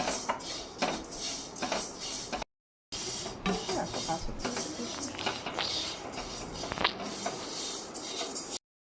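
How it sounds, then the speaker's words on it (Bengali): Dry lentils rattle and scrape against a metal pan as they are dry-roasted and stirred over low flame, with repeated clinks of a spoon, close and moderately quiet, briefly cutting out. "ডালটা এবার হালকা ভেজে নিব"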